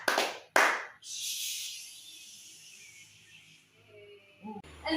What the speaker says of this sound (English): Let's give YouTube group a fireworks clap.